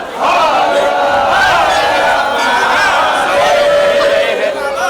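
A dense crowd of devotees at a Varanasi temple chanting and shouting together, a loud continuous roar of many voices.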